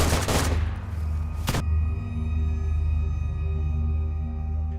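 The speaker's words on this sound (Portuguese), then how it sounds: "Eu dei uma rajada de AK de supressão e tentei correr." A short burst of rapid AK rifle fire in the video game DayZ, then a single sharp shot, followed by a steady low electronic hum.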